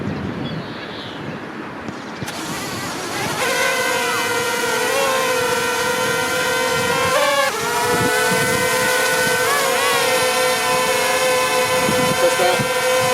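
A Zerotech Dobby drone lifts off and flies nearby outdoors, its rotors building into a steady high buzzing whine that shifts in pitch, with wind noise on the microphone.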